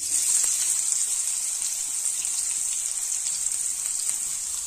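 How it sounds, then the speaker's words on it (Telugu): Sliced onions with curry leaves, mustard seeds and lentils fry in oil, giving a steady, even hiss and sizzle close by, with faint crackles dotted through it and no voices. "ఉల్లిపాయల్ని బాగా వేయించుకోవాలి."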